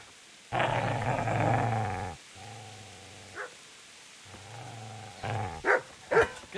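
A dog growls in the medieval video game Kingdom Come: Deliverance: one long, loud, throaty snarl, then a quieter second growl after a short pause, with brief scuffing sounds near the end.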